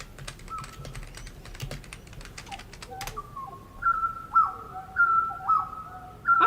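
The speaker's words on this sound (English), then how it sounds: "That's very much the butcherbird, yes." Australian butcherbird song rings out in clear, repeated whistled phrases, fairly loud and close, after several seconds of keyboard typing.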